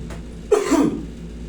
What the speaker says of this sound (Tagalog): Dayain mo ubo.